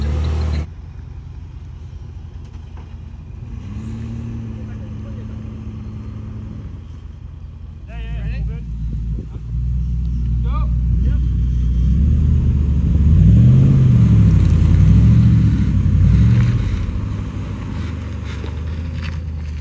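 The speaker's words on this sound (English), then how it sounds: "There's another car coming." A car approaches and drives past on a road, its engine rumble swelling to a loud peak and lingering before easing, with no talking.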